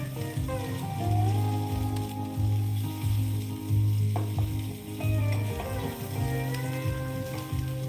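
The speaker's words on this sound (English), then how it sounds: "Okay, sizzle still sounds good." Food sizzling steadily in a hot pan, a continuous crackling hiss with a faint low hum underneath, fairly close.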